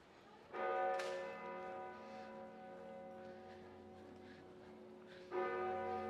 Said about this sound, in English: Oh, I can hear some bells.